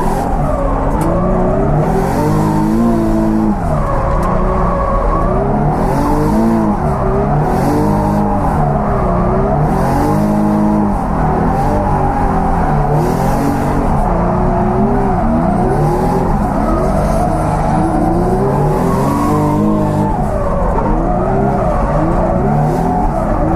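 Drift car on a competition run at Driftland during a British Drift Championship Pro 2 round, engine loud and close, revving and bouncing off the limiter in repeated surges, with tire squeal running continuously underneath.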